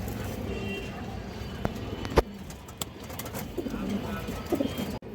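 Pigeons coo softly in a loft of fancy breeds, their low rolling calls repeating close by over a busy background with scattered knocks and a passing car.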